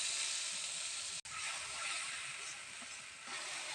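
Spice paste of turmeric, chili powder and salt sautés in a hot pan with a steady, loud hiss and sizzle that holds throughout, broken once by a brief dropout.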